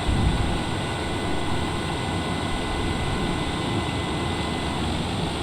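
TBM 930 turboprop airplane rolling out on the runway after landing, a steady loud broadband engine and propeller roar with a constant high whine, heard close from inside the cabin without talking.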